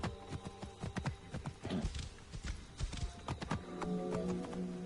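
Horse hooves clip-clop in Assassin's Creed Origins, set in Siwa in ancient Egypt, in a steady close trotting rhythm with a brief neigh and game ambience, and no talking.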